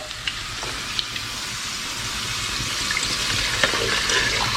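Steady frying sizzle of garlic in a pan, a bright hissing crackle with occasional pops and stirring sounds, no voices.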